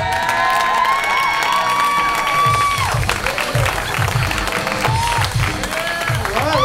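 A live comedy crowd in Las Vegas claps and cheers loudly and continuously, with whoops rising over steady applause, while someone talks over it early on.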